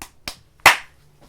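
Single sharp hand clap used to sync audio and video, loud and close, preceded by two fainter taps and followed by quiet.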